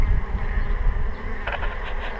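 Honey bees buzz steadily while gathering April pollen from yellow blossoms outdoors, a continuous close hum of many insects that stays fairly loud throughout.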